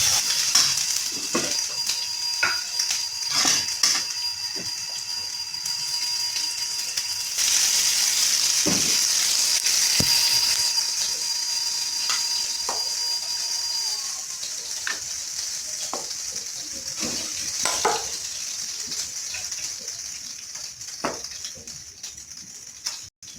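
A pabda fish cutlet mixture with potato and chopped green chillies sizzles in a pan while being stirred, giving a continuous close hiss with a faint steady whine and scattered scraping knocks from the spoon.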